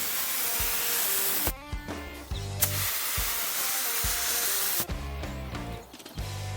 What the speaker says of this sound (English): I'm testing the spraying pattern and tuning it so that I get an even spread of acetone